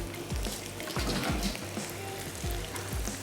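Eggplant frying in hot oil, a continuous bubbling sizzle with several soft low thumps as pieces are moved or lifted, close and steady, no voices.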